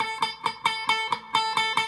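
A guitar D barre chord with the first string deliberately muted is strummed about eight times in quick, even succession, close and fairly quiet.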